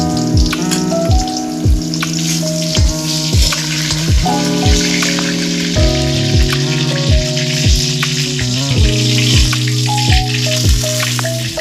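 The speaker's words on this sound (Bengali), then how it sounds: "পটলগুলো ভাজা হচ্ছে, দেখুন কিরকম কড়া ভাজা হচ্ছে।" Pointed gourd (potol) deep-frying in plenty of oil, a dense close sizzle with frequent crackling pops and bubbling, continuous and loud, with no voices.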